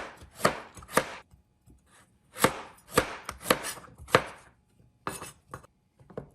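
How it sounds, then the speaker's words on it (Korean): A knife dices a small 150 g beetroot into cubes on a cutting board, sharp chops landing in uneven bursts of two or three with short pauses between them. "작은 비트 한 개 150g을 깍둑 썰게 해주시고요"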